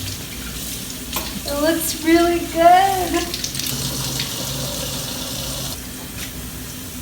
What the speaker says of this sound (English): Now I'm just going to rinse the fabric with cool water until it runs clear.